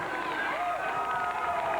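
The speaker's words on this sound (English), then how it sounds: "Now the fans cheering for him." Wrestling house-show crowd in Salem cheering and chanting in a packed arena, a continuous roar with rising voices under close commentary talk.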